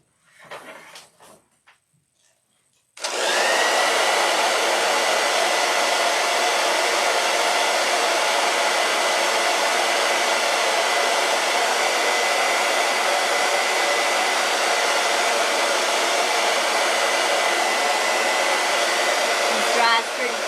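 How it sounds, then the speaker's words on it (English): A blow dryer drying paint on a two-sided pumpkin sign roars on loud and steady after about three seconds of quiet handling noises, then runs without a break to the end. "Can I get my blow dryer for 1 second?"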